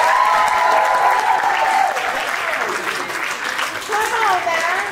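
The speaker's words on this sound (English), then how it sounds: "I want to hear everyone applause for Kennedy since she got this." An audience at a performing-arts academy show claps loudly and steadily for a young performer, with cheering and whoops riding over the sustained applause.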